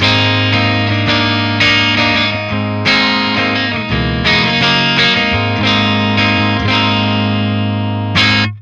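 Electric guitar played through a Friedman Jose 20 amplifier on a clean setting, a run of ringing strummed chords and single notes with sustain, loud and alone with no talking.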